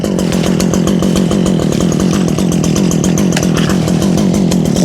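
A petrol brush cutter engine, freshly refuelled, starts and runs at a loud close buzzing roar with a rapid, steady pulse throughout.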